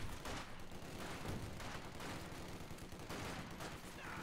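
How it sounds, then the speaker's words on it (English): Heavy machine gun fire from a tank video game: a steady, rapid string of gunshots running for several seconds at low level, dense and rhythmic, with no voice over it. "He just got reminded that the heavy machine gun was still there."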